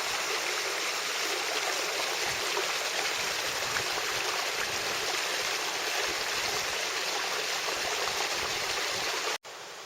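A small creek in the Snoqualmie backcountry rushes steadily over rocks, a dense, unbroken wash of flowing water close by and fairly loud, with no voices over it.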